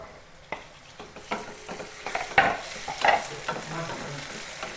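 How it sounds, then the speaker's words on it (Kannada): Onions frying in a pan with oil for an alasande curry, a soft close sizzle broken by repeated scraping stirs of a spoon, no talking. "ನಮ್ಮ ಈರುಳ್ಳಿ ಇವಾಗ ಫ್ರೈ ಆಗೈತಿ"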